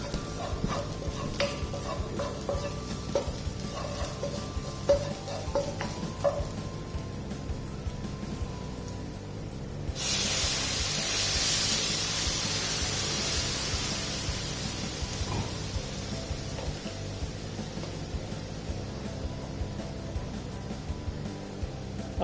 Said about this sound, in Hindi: अब हम इसमें दूध डालेंगे